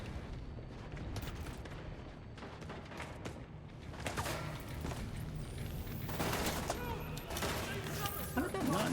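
Heavy gunfire in The Division 2 shooter, a dense stretch of sustained shots and booms that builds louder after a few seconds, mixed with game effects and a voice talking over it.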